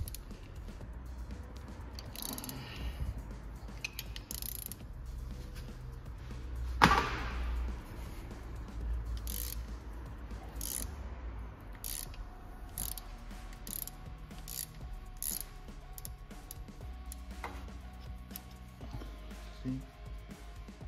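A size 14 wrench works loose a drain plug on a Mercedes GLC transfer case or differential, with intermittent ratcheting metal clicks and one louder clunk against a quiet workshop background.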